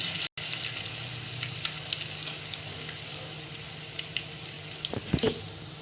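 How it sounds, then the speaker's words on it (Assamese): Lentil fritters sizzle in hot oil in a pan, a continuous crackling hiss with a few sharp clinks and stirring knocks near the end, with no one talking. "এয়া বৰকেইটা দিয়া চব এয়া ভালকৈ ভাজ খাই আহিছে"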